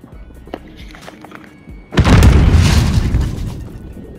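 A grenade blows up in the shooter game Modern Warfare, a sudden loud boom with a rumbling tail after quieter footsteps and small clicks.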